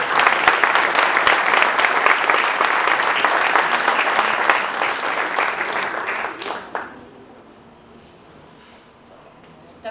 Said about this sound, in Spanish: Un aplauso para todos los